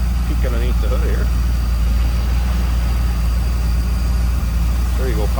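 1956 Ford F100 pickup street rod engine idling smoothly, a steady low rumble close by and constant throughout, with someone talking briefly over it.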